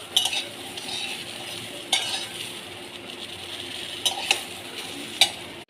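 Eggs being fried in a pan for a Bengali egg bhujia, a steady soft sizzle with a few sharp utensil scrapes and clinks standing out at intervals.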